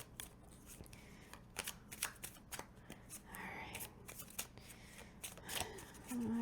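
Tarot cards handled and slipped back into a deck, heard as a run of soft papery flicks and riffles at close range, with quiet pauses and a brief low hum near the end.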